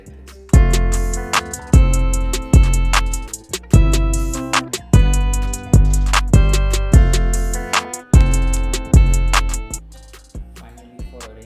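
Guitar-driven hip-hop beat built in FL Studio and maximized with a multiband compressor mastering preset, loud and dense with punchy kick hits landing on a steady rhythm under layered guitar chords, no talking.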